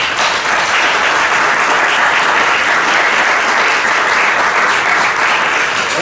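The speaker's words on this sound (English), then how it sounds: "Let's give a round of applause to the candidate." Audience at a U.S. Senate candidate debate applauding a candidate after a speech: loud, dense, continuous clapping from a sizable crowd filling the whole stretch.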